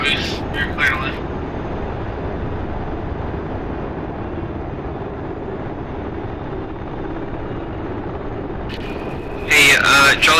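Rotor and turbine drone of a UH-60L Black Hawk helicopter lifting off in the DCS World combat flight simulator, a steady loud wash throughout, with radio chatter voices briefly at the start and end.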